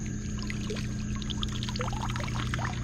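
A hand net scooped through shallow rocky water for bait shrimp and minnows, giving a steady pouring, trickling wash of water with small splashes over a constant low boat-like hum.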